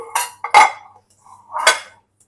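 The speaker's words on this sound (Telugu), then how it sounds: "ఇప్పుడు నేను మొత్తం మిక్స్ చేస్తున్నాను" Chicken biryani is stirred in an Instant Pot, giving three clear, close clinks and scrapes of a utensil against the metal pot, separated by short silences.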